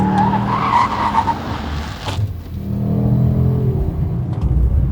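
A Ford Mustang Dark Horse V8 engine rumbles loudly while tires scrub and squeal briefly as it slows hard on Brembo brakes, then the engine drones on low.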